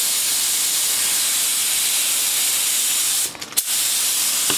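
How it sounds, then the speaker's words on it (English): An air compressor spray gun gives a steady hiss of spraying throughout, with a brief interruption and a sharp burst near the end; no one speaks. "And here's David, prepping the top secret air compressor gun"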